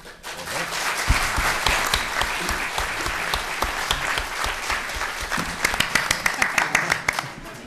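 Applause and scattered clapping from a live audience at a question-and-answer session, steady throughout with some sharper individual claps near the end and a voice briefly audible in the mix.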